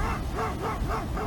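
Dogs barking on a beach by the sea with spray and mist, a rapid run of yapping barks at a moderate distance over steady surf wash, no talking.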